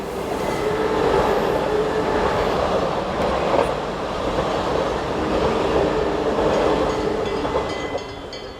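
Swiss Class 500 intercity trainset 027 coasts in near Erstfeld on a Lugano to Zurich service, giving a loud continuous rolling rumble with rhythmic wheel clatter and faint squeals, easing toward the end.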